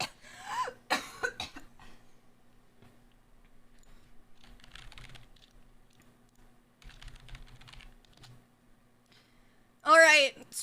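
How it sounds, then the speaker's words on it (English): A person coughs a few times up close at the start and again near the end, with soft keyboard typing and faint clicks in between during a League of Legends stream. "Can you stop coughing?"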